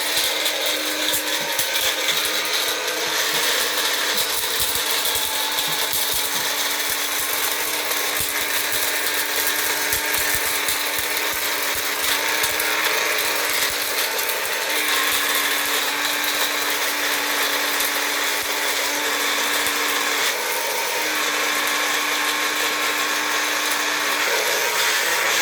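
Electric spice grinder milling ginger into powder, a steady high whirring hum with a slightly rattly edge that runs continuously and fairly loudly for the whole stretch, with no talking.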